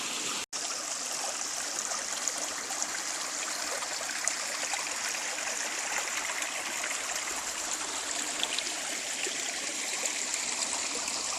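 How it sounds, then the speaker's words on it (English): A small creek flows over rocks on rural Alabama land, a steady, close hiss of bubbling water that continues evenly throughout with no voices. "Beautiful little creek"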